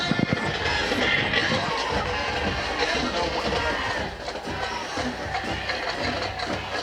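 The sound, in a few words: football stadium crowd cheering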